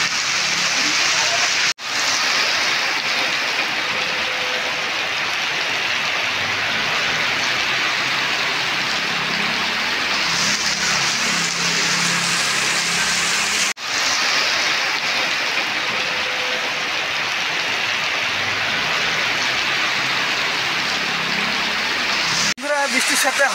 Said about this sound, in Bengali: বৃষ্টির সাথে হাওয়া আছে, এই জন্য দোকানের ছাতা নামিয়ে দিলাম